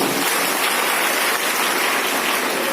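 Audience applause at a business seminar: a dense, steady wash of many hands clapping at once, loud and continuous throughout with no break and no speech.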